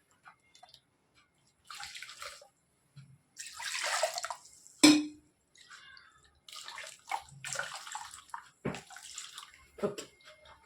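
Water swished to rinse a mixer jar and poured into fish curry makes intermittent bursts of sloshing and pouring, with drips and a sharp clink midway, close and moderately loud between short pauses.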